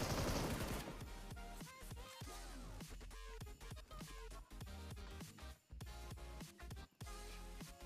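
Rapid bursts of automatic gunfire rattle through a PUBG Mobile match, crackling in dense, repeated volleys with a few brief pauses, moderately distant and without talk.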